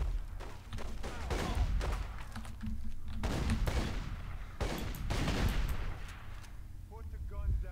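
Gunfire in The Godfather II video game, including sniper shots, as loud sharp blasts and thuds repeat across the clip amid game action, with someone talking over parts of it.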